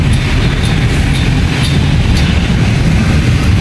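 A light rail train rumbles past nearby with a loud, continuous roar and faint rhythmic rail clatter, no voices.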